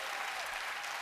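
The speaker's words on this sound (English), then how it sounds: "So a quick round of applause for you guys." Keynote audience at a customer success industry conference bursts into dense, sustained applause, many hands clapping at once from a large crowd, loud and even throughout the short moment.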